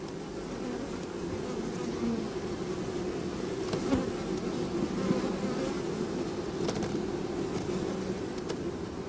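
Honeybees swarm around an opened beehive during beekeeping work, a dense, steady buzz of many insects that fills the whole stretch at an even level, with no talking.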